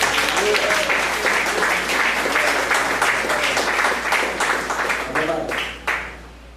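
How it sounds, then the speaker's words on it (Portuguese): A church congregation at a missions service bursts into sustained applause, dense hand-clapping for about six seconds that fades out at the end, with voices mixed under the clapping. "Dá uma salva de palmas para Deus."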